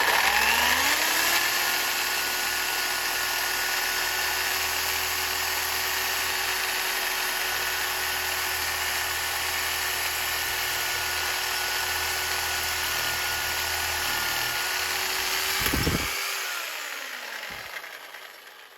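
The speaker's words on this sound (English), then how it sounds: "I'm going to go ahead and use my Sawzall just to kind of give a small cut to this casing" A Sawzall reciprocating saw cuts into a differential seal casing on a Triumph Spitfire, its steady high-pitched motor whine running loud and continuous for most of the stretch before winding down near the end.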